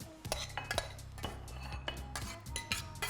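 Spoon plating food onto a dish, with quiet close clinks and scrapes of metal on crockery in irregular bursts over a low background hum, fairly faint overall.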